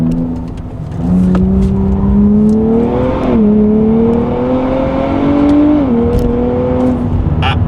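A 2023 Nissan Z Performance, with aluminum double-wishbone front and multi-link rear suspension, takes a roundabout, its engine droning loud and close from inside the cabin, pitch rising, dipping and climbing again as it shifts and accelerates.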